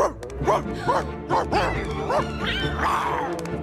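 Several sharp, yappy barks in quick succession from a small animal, close by, with music playing underneath, from an animated film.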